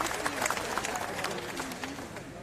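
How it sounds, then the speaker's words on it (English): An audience at the official opening ceremony of an expo claps during a keynote by the prime minister, with steady crowd applause filling the room and a faint voice underneath. "Yes, I would clap for that."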